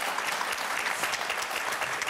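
Audience applause from a seated crowd at a panel show, a dense, steady wash of many hands clapping at once that carries on unbroken for about two seconds, with no voices over it.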